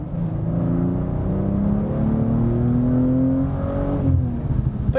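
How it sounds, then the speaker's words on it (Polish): BMW M240i inline six-cylinder engine running steadily in comfort mode, a low, even hum heard from close by with a slight rise in pitch, no talk over it. "słyszycie, że to pracuje 6 cylindrów w rzędzie"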